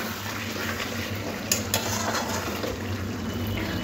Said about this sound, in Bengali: আমি একটু গ্রেভিটা বাড়াবার জন্য একটু জল দেব।